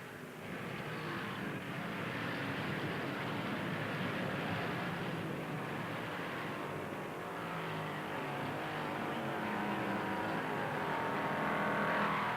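A Chevrolet stock car racing at Darlington Raceway in the 1958 Southern 500, its engine roaring as a steady, broad drone that swells slightly over the course of several seconds, with no talk.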